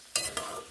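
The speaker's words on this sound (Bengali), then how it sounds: "জলগুলোকে মিশিয়ে নেব" Water being stirred into flat beans in a cooking pan, two short scraping swirls with a light wet sizzle, close and fairly quiet, with no voices.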